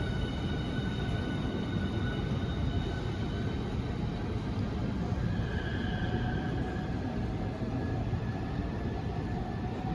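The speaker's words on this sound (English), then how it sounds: "departing now is the 1531 Southeastern service to St Pancras International" A Southeastern high-speed service to St Pancras International pulls out of a London station, producing a steady, continuous rumble of motors and rolling wheels with faint high whines throughout and no voices.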